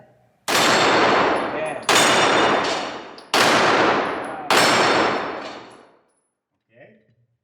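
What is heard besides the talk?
Glock 34 Gen 4 pistol gunshots hitting steel targets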